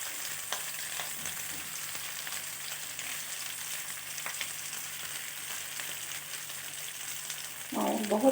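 Chicken leg and thigh pieces fry in a pan with a soft, steady sizzle, turning into a louder crackling burst near the end.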